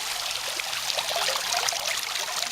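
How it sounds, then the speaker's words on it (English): A water fountain spurts and splashes steadily at close range, captured from its rim: a continuous, fairly loud hiss of falling and trickling water with no voices. "let's get a close-up of the top of the fountain spurting water"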